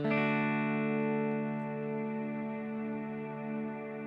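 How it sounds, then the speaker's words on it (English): A single guitar chord played through a Kemper modeler's citrus reverb effect rings out and decays slowly into a shimmering, sustained wash, moderately quiet and without any voices. "No, here's a citrus reverb. This has some cool things going on."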